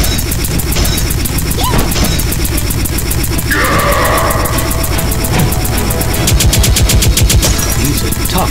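Rapid gunfire from shooting in the Raccoon Rampage arcade game, with sustained machine-gun-like bursts and crackling shots running throughout, mixed with other game effects and voices.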